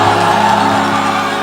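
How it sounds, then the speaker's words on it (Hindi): Stage show crowd at a Bhojpuri music event cheering and whooping, a dense, steady roar of many voices with applause mixed in, loud and continuous throughout. "गोलू के लिए एक जोरदार ताली हल्ला करके बजाइए आप सब।"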